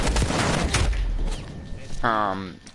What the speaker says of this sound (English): this Spaz 12, I'm not exactly sure why it's this fucking just high rate of fire, like absolute fucking bullet hose